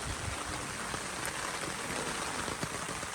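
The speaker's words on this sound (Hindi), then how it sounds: "ठंडी ठंडी बारिश" Steady, dense rain pours down on a rainy day in Miandam Valley, Swat, pattering continuously on surfaces close by with a constant hiss and no voices.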